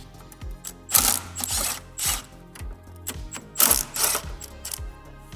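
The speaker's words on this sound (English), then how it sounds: "we will be unbolting our coolant reservoir. So it's just two 10mm headed bolts." A hand ratchet loosens 10mm bolts on a Honda Civic coolant reservoir: loud, close, rapid clicking in repeated bursts, with sharp metallic ticks between strokes.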